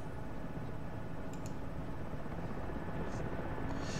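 An Mi-8 helicopter in DCS World drones steadily with a dense, unbroken rotor and turbine roar, with voices faintly over it.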